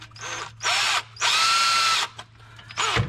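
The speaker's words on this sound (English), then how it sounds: "That's a perfect guide to get that drill spot right in the center of that bolt." A power drill bores into a bolt on an OHC 6 Tempest engine, running in four loud, close whirring bursts of different lengths separated by short pauses.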